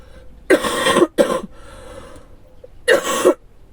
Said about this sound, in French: je m'excuse pour cette toux intempestive tout au long du tirage.